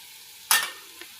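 Turmeric hits green chillies frying in hot oil, a sudden loud sizzle that swells for about a quarter second and then fades, with a small second burst near the end; no talking.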